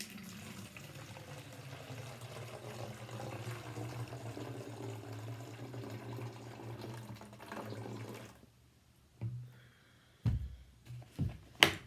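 Liquid poured from a measuring cup into a plastic milk or vinegar jug for a Boyle's law lab, a soft, steady trickle lasting about eight seconds, then silence and a few sharp knocks as the jug is handled.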